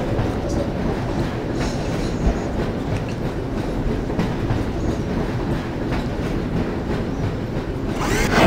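Train riding on rails in Half-Life, a loud, dense, continuous rumble with repeated clicking of wheels over track joints and occasional squeal-like accents, steady throughout with a slight swell at the end.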